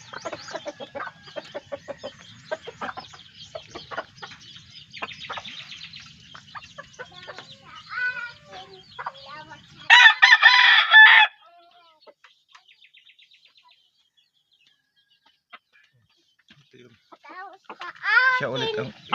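Backyard chickens cluck steadily, and a rooster lets out one loud crow partway through. A voice talks over the birds near the start, and a shorter crow or squawk comes near the end.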